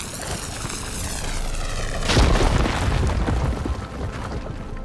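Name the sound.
explosion blowing up a blocked tunnel in a video game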